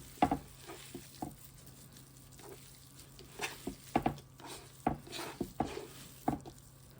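Roast beef pieces being mixed in a pot: faint, scattered scrapes and soft clacks of a utensil come in irregular bursts against a quiet, low hum, with no talking.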